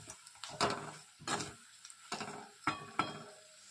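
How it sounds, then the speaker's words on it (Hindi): Puffed rice is mixed with powdered sugar, namkeen and turmeric in a bowl, making soft dry rustling crunches in about five separate bursts with short quiet gaps between them, close and fairly quiet, with no voices. "अच्छे से मिक्स कर लेंगे।"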